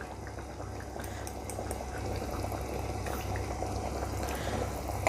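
Bali-style beef broth, seasoned with salt, sugar, ground pepper and mushroom stock, simmering and reducing in a pan, giving a close, steady bubbling and gurgling boil that grows slightly louder toward the end.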